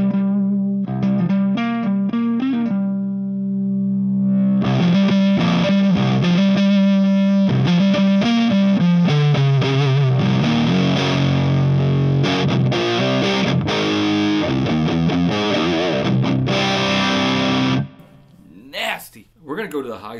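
A Carvin California Carved Top electric guitar plays through its neck pickup with the volume knob backed off, giving sustained distorted chords and single notes with effects, loud and close, until the playing breaks off near the end.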